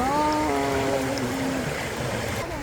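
Rapidly flowing river water rushes in a steady, close broadband wash while a voice sounds briefly over it.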